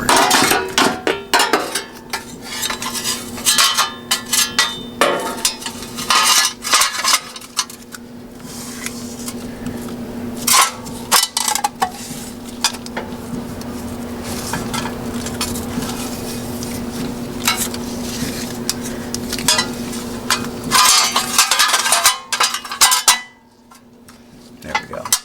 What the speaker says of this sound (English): These bolt cutters are nice. I haven't really used them until, well, right now. I just cut this right off the firewall.